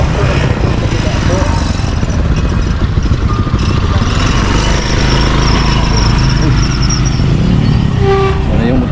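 A rattly old motorcycle with loose fairings passes close and loud, its engine chatter running the whole time under busy street noise and a brief horn-like tone.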